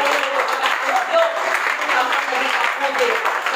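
Congregation applauding at a Filipino church worship service, a dense, steady wash of clapping filling the room continuously from start to finish, loud and even with no clear pauses.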